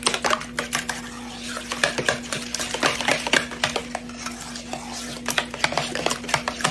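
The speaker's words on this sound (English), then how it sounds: "2 eggs. Okay, and stir that up" A spoon stirs eggs into a broccoli casserole mixture in a bowl, with quick repeated clinks and scrapes against the dish in an uneven rhythm, close up and with no talking.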